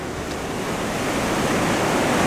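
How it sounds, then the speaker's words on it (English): Ocean waves washing onto a rocky beach in Spain, a continuous broad wash of surf and rushing water growing slightly louder, with no voices. "I'm getting wet feet from the waves coming in"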